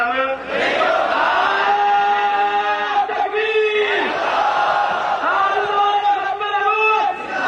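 A large crowd at a religious conference rally shouts a slogan in unison, loud, raw, overlapping voices rising and falling in repeated bursts for several seconds.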